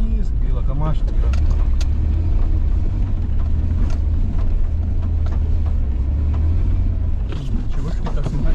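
A car drives through snowdrifts on a rural road in northern Lithuania, its low engine rumble steady and close throughout, with people talking over it.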